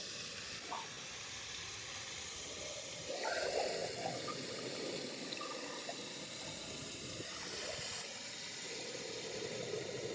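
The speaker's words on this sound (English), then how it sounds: "Or, I guess water fountain, more like it." Water from an outdoor fountain splashes in a steady, continuous wash at moderate distance, with faint background ambience and no talking.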